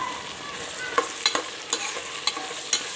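Onion, garlic, ginger and green chili paste fries steadily in a pan, a constant soft sizzle broken by a few sharp scraping stirs, close up, with no voices.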